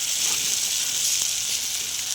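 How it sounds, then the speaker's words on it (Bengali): Steady, loud sizzling of potatoes and cauliflower hitting hot oil with cooked spice paste in a pan, a continuous bright hiss throughout with no talking. "আমি এবার আলু ফুলকপিগুলো দিয়ে দিচ্ছি।"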